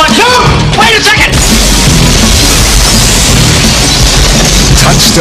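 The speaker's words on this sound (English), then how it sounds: "Stop shooting at us, you idiots!" Gunfire and crashing impacts in a 1993 comedy shootout, loud and dense, with shouting voices at the start, then a sustained roar of shots and bangs running throughout.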